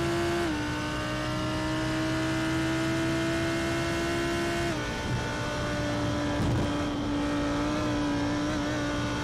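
GT3 race car in a sim racing game at Circuit de Spa-Francorchamps, engine screaming up Eau Rouge: a loud, steady high-pitched drone that holds, drops slightly as the throttle is worked, then carries on, with other cars close by.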